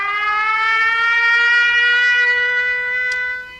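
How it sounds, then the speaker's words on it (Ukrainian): An air raid siren in the Lviv region of Ukraine wails as a steady, loud, sustained tone that holds for several seconds, then starts to fade at the end. "Увага! Повітряна тривога."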